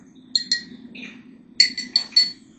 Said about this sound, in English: Now, give it a little stir.